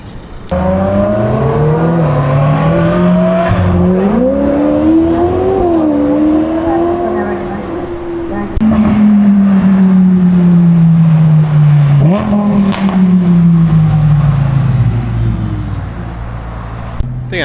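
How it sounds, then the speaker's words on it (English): A car exhaust on a Tokyo street revs and drones close by, the engine note climbing and falling across repeated throttle pulls, then settling into a long descending rumble as it pulls away. "You just hear the exhaust sound and you must follow it."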